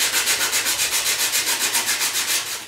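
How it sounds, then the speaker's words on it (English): Wood being hand-sanded with 120 grit sandpaper while shaping a wooden hat block for wet felting: a steady, close rasping scrape in quick regular back-and-forth strokes, with no talking. "piece of sandpaper. This is 120 grit"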